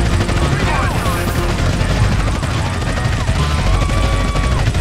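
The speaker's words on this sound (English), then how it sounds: "We got another police helicopter now." A police helicopter in GTA San Andreas gives a dense, steady rotor roar mixed with rapid gunfire-like bursts, loud and continuous throughout.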